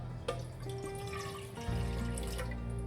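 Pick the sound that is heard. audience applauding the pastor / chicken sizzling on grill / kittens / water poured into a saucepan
water poured into a saucepan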